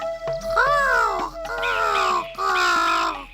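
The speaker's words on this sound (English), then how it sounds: "this crow cawing" A cartoon crow in an animated animal story caws three times, loud and close, with drawn-out harsh calls over a soft background tone.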